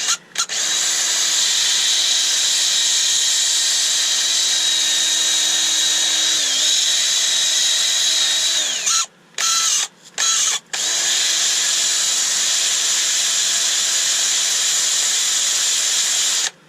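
A power sander whines loudly and continuously on a wooden bowl, cutting out for a few short pauses before running again.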